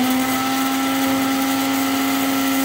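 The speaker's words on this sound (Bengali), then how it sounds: "তারপর ব্লেন্ড করে আমি এটা রেখে দেব" Blender grinding deeply fried spices into powder, a loud steady high-pitched motor whine with constant buzzing, uninterrupted throughout.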